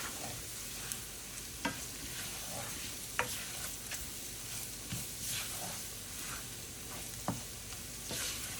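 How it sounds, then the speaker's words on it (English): Sausage grease and flour stirred together in a pan for gravy, a low steady sizzle with occasional soft scraping clicks of the spoon against the pan. "we're going to scoop this all around here, and we don't want to see any more white of the flour"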